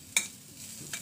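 Thinly cut vegetables for chowmein fry in a pan with a soft sizzle, broken by two quick scraping stirs.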